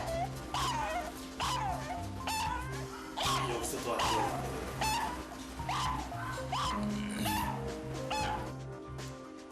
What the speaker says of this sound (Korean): 그냥 여기서 짖으면 너무 안쓰러워요.